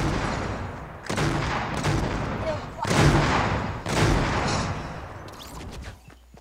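Loud bursts of gunfire from people shooting, several heavy blasts spaced about a second apart with rumbling tails, while voices talk urgently between shots.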